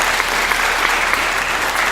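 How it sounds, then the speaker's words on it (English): Applause for the performers at a talent show, a dense, steady crowd clapping that fills the short stretch without pause. "So that's a round of applause for everyone that's performed tonight."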